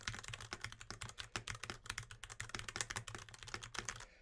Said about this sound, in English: let's go on and get that keyboard test on this guy as well